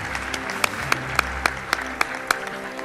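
A closing-session audience bursts into sustained applause, dense clapping throughout with a few sharp, louder claps standing out at a steady pace, moderately close and without speech.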